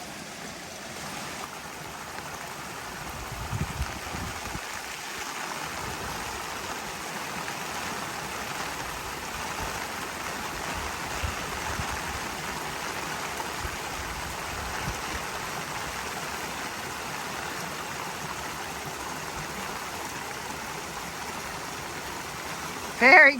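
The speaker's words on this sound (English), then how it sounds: "Water's really flowing with all this rain." A rain-swollen stream on a foggy, wet Appalachian Trail crossing, heard as a steady broadband rush of flowing water with a faint patter of rain, continuous and fairly close, with no one talking.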